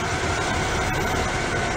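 The limited express train Tokachi No. 1 to Obihiro rumbles close by as it arrives at platform 2 of Tokachi-Shimizu Station on the Nemuro Main Line, with a dense, steady roar and faint rhythmic clatter, no voices heard.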